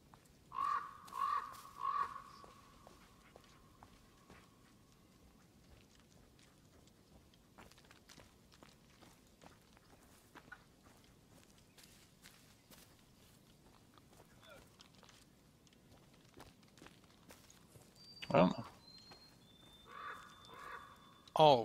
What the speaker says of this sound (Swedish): Det var en fågel.